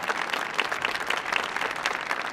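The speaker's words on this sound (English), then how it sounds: "let's give another applause, round of applause for these young men and women, young musicians" Audience applause for young jazz musicians at a Millennium Stage concert, a steady crowd clapping sustained through the whole stretch, moderately loud with no talk over it.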